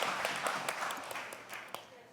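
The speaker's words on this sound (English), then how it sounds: "Give him a round of applause." An indoor audience claps for a speaker at a public-speaking slam event, a dense patter of clapping that holds fairly level, moderately loud, with no talk over it.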